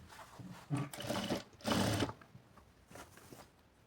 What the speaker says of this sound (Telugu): ఇలా ఇప్పుడు స్టిచ్ వేసుకుంటూ వెళ్తాను.